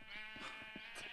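Sheep bleating in the Minecraft video game, several short game-sound bleats repeating close together across the clip at a moderate, steady level.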